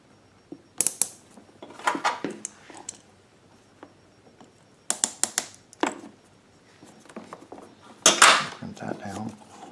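A hose clamp crimped down while installing a Craftsman 3300i extended run fuel kit, several close, sharp metallic clicks and ratcheting bursts spaced out with quiet gaps between.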